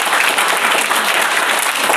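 A church congregation at a mission gathering in Arunachal Pradesh claps loudly in thanks, a dense, continuous burst of applause from many hands that fills the room.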